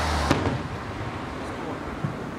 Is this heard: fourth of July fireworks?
yes